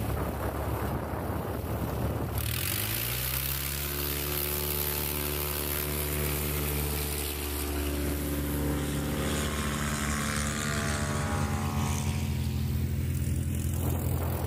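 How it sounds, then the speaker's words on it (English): A 1970 Cessna Aerobat light airplane runs its piston engine at a STOL competition in Texas, a loud, steady drone that rises in pitch after about two seconds, then holds, with wind buffeting throughout. "That's a 1970 Cessna Aerobat"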